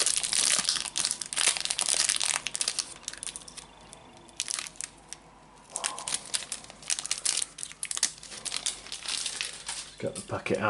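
Close, loud crinkling and crunching of a see-through plastic packet of Topps Match Attax SPFL trading cards being handled, in irregular bursts with a person talking over it.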